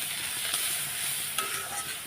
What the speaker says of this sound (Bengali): ভাজাভাজি করে নিই